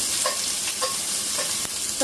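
A large onion frying in hot oil with cumin seeds in a pan for masale bhat, sizzling steadily while a spoon scrapes and stirs in several quick strokes.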